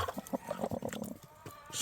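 An Araucana hen, a broody egg-sitting hen, clucks close by in a quick run of short, throaty notes.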